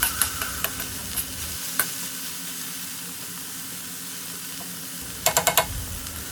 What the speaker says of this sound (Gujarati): આ રીતે ચમચા વડે ચલાવતા રહેવાનું છે જેથી તે બધી બાજુથી એક સરખો ક્રિસ્પી કૂક થાય